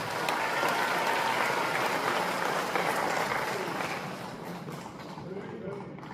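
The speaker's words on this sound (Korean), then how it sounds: "합창단 모두께 큰 박수 부탁드립니다." An audience at a Korean War student-soldier memorial ceremony applauds a municipal choir; broad, steady clapping that gradually fades toward the end, with some voices underneath.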